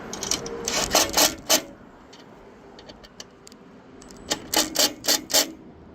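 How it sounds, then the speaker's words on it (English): A vehicle camera bracket being tightened, with a close run of quick ratcheting clicks and scrapes in two bursts separated by a few faint taps. "Let me just tighten the bracket down real quick"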